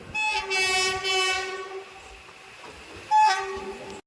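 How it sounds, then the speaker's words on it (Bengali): The Tebhaga Express, hauled by a WDM 3D diesel locomotive after leaving Kolkata, sounds two loud, sustained horn blasts separated by a quieter stretch of running train noise. "আমাদের এই তেভাগা এক্সপ্রেসকে লিড করছে WDM 3D লোকোমোটিভ।"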